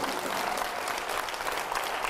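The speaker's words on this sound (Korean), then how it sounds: "박수" Congregation applause at a Korean church revival meeting right after a sung hymn, a steady dense wash of clapping from a crowd filling the whole short stretch at an even, fairly loud level.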